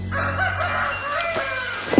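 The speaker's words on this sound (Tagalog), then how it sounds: "marinig namin ang pagtilaok ng manok sa di kalayuan" A rooster crows in one long, drawn-out call, fairly close and clear, with no voices around it.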